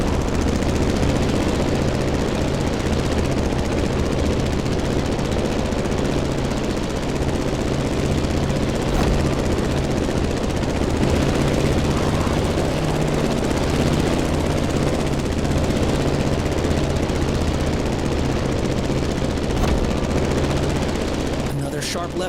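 A plane engine in The Crew Motorfest video game drones loudly and continuously, with a rough, rattling texture and a few sharp clicks partway through.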